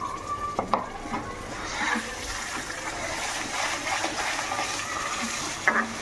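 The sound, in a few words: gravy frying and splattering in a pan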